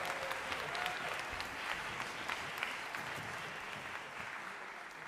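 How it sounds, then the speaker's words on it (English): Audience applause at a jazz band sendoff concert, steady dense clapping held at moderate level, heard from some distance throughout. "Let's give another round of applause to Dr."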